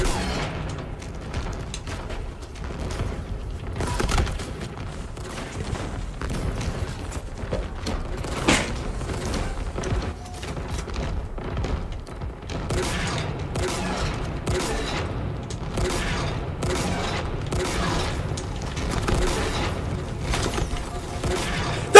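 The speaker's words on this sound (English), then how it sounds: "So many explosions!" Halo Infinite squad battle: rapid bursts of gunfire and repeated booming explosions pile up continuously, loud and dense, with brief lulls between volleys.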